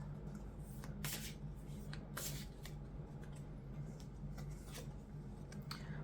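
Oracle cards being shuffled by hand, a steady papery riffling and sliding with sharper flicks near the start and middle, close and continuous over a constant low hum, with no talking.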